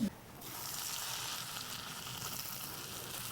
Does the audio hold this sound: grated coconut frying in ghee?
yes